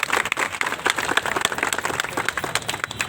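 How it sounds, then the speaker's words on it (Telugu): Audience clapping steadily at a Christian gathering, dense and fairly loud applause for about three seconds with no speech over it. "అందరం గట్టిగా మనం చప్పట్లు కొడుతూ"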